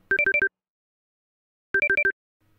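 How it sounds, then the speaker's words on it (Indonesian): A mobile phone rings with an incoming call: two bursts of four quick electronic beeps, separated by a pause of more than a second, clear and close in an otherwise quiet room. "Telepon genggam milik Satya berbunyi, menandakan ada panggilan masuk dan diangkat oleh empunya."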